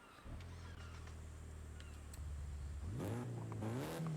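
Nissan S13 with a stock exhaust idling low and steady, then revving up sharply with a rising engine note, close and loud, with no talk over it.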